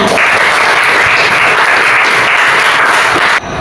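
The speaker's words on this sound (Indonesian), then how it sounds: "Tepuk tangan untuk teman kalian." Classroom applause for a student, a steady dense clapping from many hands lasting about three and a half seconds at close range before cutting off abruptly.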